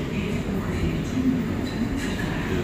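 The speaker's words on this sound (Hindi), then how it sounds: "चलें जी, हम ट्रेन में दाखिल हो रहे हैं अब" Steady low rumble of a double-decker passenger train interior in Belgium, with continuous rolling noise and faint rail clatter throughout, voices murmuring under it.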